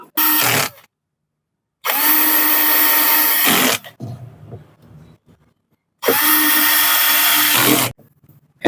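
Impact drill just repaired, gear regreased and plugged into 220 volts, runs in three loud, steady bursts of about one to two seconds each, with quieter rattling and handling noise in the gaps between them.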